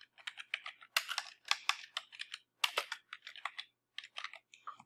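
Fingers type on a computer keyboard while a PHP file is written, producing close, crisp keystrokes in quick irregular clusters broken by short pauses, with no voices.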